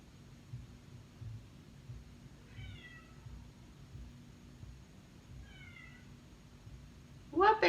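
A house cat meows to be let in, two short plaintive meows spaced a few seconds apart over a steady low room hum, followed by a louder, closer cry at the very end.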